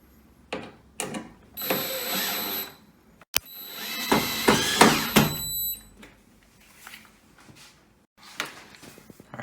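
A power drill drives screws back into the front of a Samsung front-load washer, giving several short whirring bursts separated by pauses, with a sharp click and some handling clatter between them.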